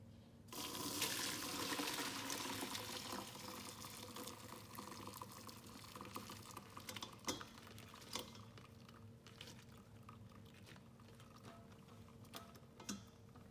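Shrimp stew stock is strained from the pot, a continuous soft pour and trickle of liquid that fades and breaks into scattered drips and clinks near the end.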